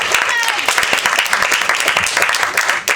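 Comedy club crowd at Dangerfield's in NYC applauding loudly and steadily, dense clapping with some cheers filling the room throughout.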